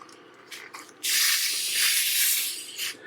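Fizzy lemonade poured into a bowl of scone mix, a couple of short splashes followed by a steady close fizzing pour lasting about two seconds, then a brief trailing splash, no talking.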